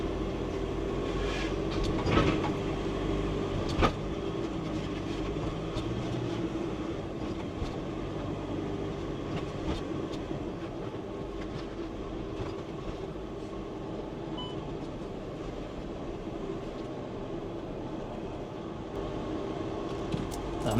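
A Eurotunnel shuttle train carrying a VW Crafter van between the UK and France gives a constant loud rumble with faint clicks and squeals from inside the carriage, steady throughout with no talk.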